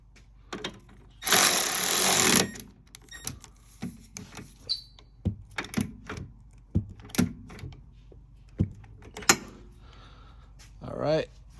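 Hand tools tightening bolts on a solid differential mount for an 02-11 Honda CR-V, a burst of ratcheting or power-tool whir among scattered sharp metallic clicks and knocks, close and fairly quiet.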